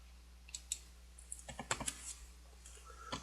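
Accounting entries being keyed in on a computer keyboard: faint, irregular clicks and short bursts of key presses over a quiet room hum.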